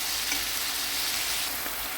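Vegetables for borscht sizzle in a hot pan as a constant, fairly loud hiss that runs evenly from start to finish.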